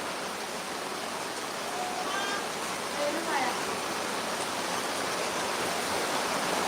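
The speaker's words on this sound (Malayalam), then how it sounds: "നല്ല മഴ ഒരു രക്ഷയില്ല" Heavy monsoon rain pours down on a road in Kerala as a dense, steady hiss. Faint vehicle or horn tones come through now and then beneath the downpour.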